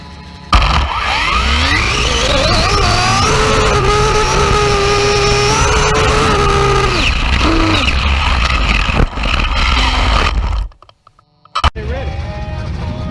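A Tesla Plaid races a Typhon XL RC car, heard as a loud whining motor that rises in pitch, holds, then cuts out abruptly to near silence before a brief return of noise.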